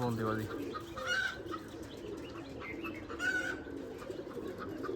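Old Giribaz homing pigeons coo in soft, repeated low bursts through the loft, with chirps and rustling around them and a few faint voices in the background.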